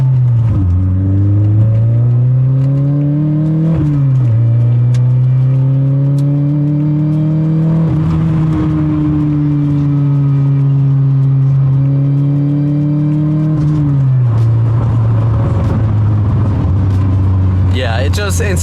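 A Toyota MR2 AW11 engine hums steadily from inside the car on a curvy back road at 50 to 60 mph, its pitch rising and dipping through gear changes, with a person talking over it.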